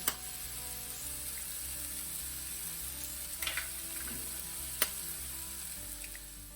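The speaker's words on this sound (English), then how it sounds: "Then mix your egg in with the rest of your filling, like this." Cracked eggs are stirred into kothu filling frying on a hot pan, a soft steady sizzle with a few light scrapes and a sharp tap partway through.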